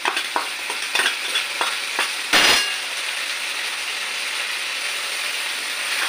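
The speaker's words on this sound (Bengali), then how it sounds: "এর মধ্যে এবার আদা, রসুন আর কাঁচা লঙ্কা বাটাটা একসাথে দিয়ে দিচ্ছি।" Ginger, garlic and green chili paste frying with already-fried onions in a pan: a steady close sizzle, broken early by several sharp spoon-scrape clicks and one louder burst, then an even hiss with no talking.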